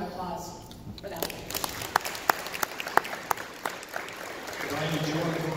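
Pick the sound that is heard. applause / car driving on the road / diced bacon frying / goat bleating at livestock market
applause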